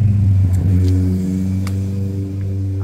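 A motorcycle engine rumbles close by on a rural road in the Monts du Forez in France, a loud steady low drone that eases slightly as it passes, with no voices.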